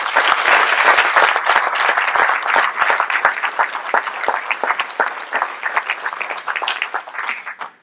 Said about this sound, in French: nous pouvons applaudir pompiers et gendarmes